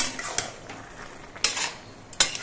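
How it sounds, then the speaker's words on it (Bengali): Bottle gourd curry stirred with grated coconut and sugar in a pan: repeated scraping strokes of a spoon against the pan, some sharper clinks, close and moderately quiet, with no talk. "এবার নারকেল কোড়া দিয়ে চিনির দানাগুলো দিয়ে বেশ ভালো করে মিশিয়ে নিতে হবে"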